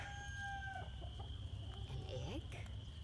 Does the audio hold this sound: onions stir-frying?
no